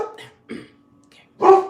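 Dog barking indoors, three short sharp barks close to the microphone, the last one loudest, with quiet gaps between.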